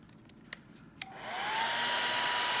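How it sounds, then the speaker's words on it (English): Hairdryer blowing warm air over wet paint, a few soft clicks and handling taps before it switches on into a steady, loud rushing whoosh that continues to the end. "And then we're going to take our trusty hairdryer"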